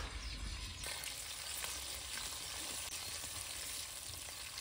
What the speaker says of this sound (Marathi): तेल तापलंय, मी वाटलेलं वाटण टाकून देते.